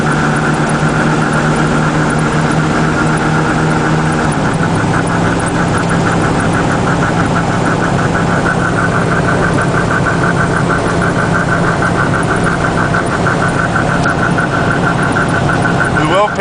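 A motorhome engine runs at a steady, loud idle, its rumble shifting slightly in pitch partway through and then holding an even, vibrating drone throughout.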